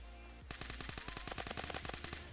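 Rapid automatic gunfire in Roblox Phantom Forces, a steady burst of loud, evenly spaced shots that starts abruptly after a brief quiet moment and continues without talk.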